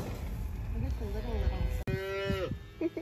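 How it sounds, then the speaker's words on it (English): Black cows moo up close in a drawn-out, rising and falling call, a second louder moo following after a short break, with faint voices around them. "You guys are black cows."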